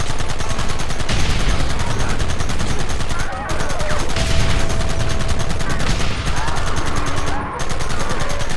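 Rapid bursts of gunfire from a Red Dead Redemption battle, loud and continuous with overlapping automatic and single shots throughout, with voices shouting beneath the shooting.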